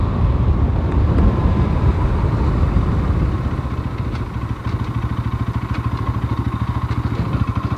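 A 2025 Bajaj Pulsar NS 200 motorcycle engine while riding, a steady, close, throbbing low drone with a rapid pulsing beat that eases slightly midway, with no talk over it.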